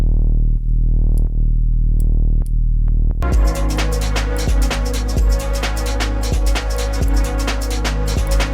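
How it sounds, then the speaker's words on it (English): Synth bass with a distortion effect for a dirtier tone: a smooth, loud low swell at first, then a gritty, dense bass groove with a regular thumping beat. "I'm going to put some distortion on this bass to make it a bit dirtier."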